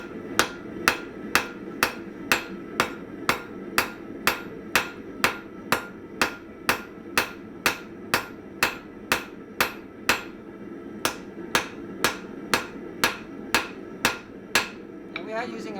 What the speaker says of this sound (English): And we are using a rounding hammer for this.